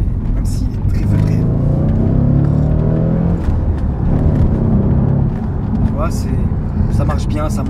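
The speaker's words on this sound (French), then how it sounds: "J'aime vraiment le bruit de la voiture, c'est... même s'il est très feutré." An Audi RS4 drives along with a muted, steady engine rumble and road noise from inside the cabin, mostly under conversation, with a few sharp knocks and clicks toward the end.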